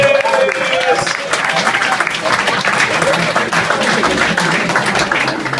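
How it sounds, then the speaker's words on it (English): A comedy club crowd applauds to welcome a surprise comedian onstage, with dense, sustained clapping and a few cheers while an emcee's voice carries over it near the start. "Keep the applause going for your second surprise comedian of this evening."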